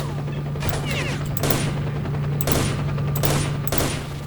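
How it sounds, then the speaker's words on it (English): Enemy automatic gunfire in the game Stalker: Shadow of Chernobyl, arriving as loud bursts of rapid shots roughly every second over a steady droning hum. "Oh, yeah, another guy's shooting at me"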